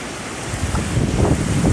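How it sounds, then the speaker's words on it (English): A strong wind gust roars through a severe thunderstorm with rain curtains in Upstate South Carolina, a broad, steady rush of wind noise that swells louder toward the end, with no speech. "Ooh, look at that gust."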